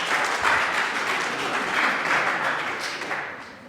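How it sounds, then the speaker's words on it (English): Audience at an art gallery show breaking into applause, a dense wash of clapping that holds steady for a few seconds and then starts to fade. "You guys did this, which means it's your applause cue for yourself."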